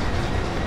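A Great Western Express passenger train in Train Sim World rolls along with a steady dense rumble of wheels and carriages, brief and unbroken.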